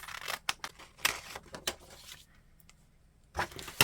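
Paper being cut in half with scissors at a journaling desk, a handful of crisp snips and rustles spread across a few seconds, close and fairly quiet.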